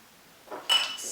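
Sugar, a pinch of salt and ground cinnamon being stirred into an apple crumble mixture, heard as a few soft scraping and clinking utensil strokes against a bowl, quiet and close, rising briefly at the end.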